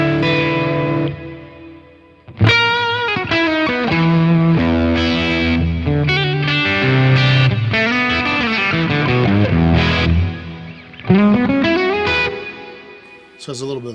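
Electric guitar through a Fender Reflecting Pool delay and reverb pedal plays picked notes and chords with a bright octave shimmer and lingering trails, phrases separated by brief pauses.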